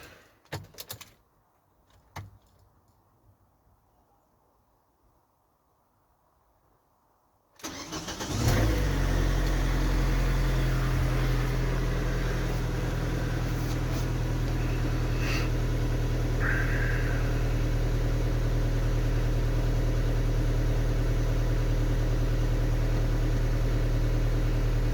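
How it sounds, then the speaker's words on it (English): A car engine on a vehicle still showing a coolant temperature fault is cranked after quiet clicks, catches suddenly, and settles into a loud, steady idle with slight revving, close by and without talk. "let's start her up now and see what happens."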